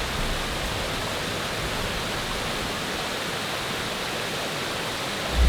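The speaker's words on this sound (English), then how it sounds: "York Creeks flow over exposed granite to form two extraordinary waterfalls" Two waterfalls at Anna Ruby Falls, Georgia, where Curtis Creek drops 153 feet and York Creek 50 feet over exposed granite, give a dense, unbroken rushing roar that stays level throughout.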